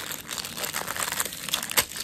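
A package holding a large decorative craft flower is opened, giving close, brisk plastic crinkling and crumpling with a sharper rustle near the end, alone and without talk.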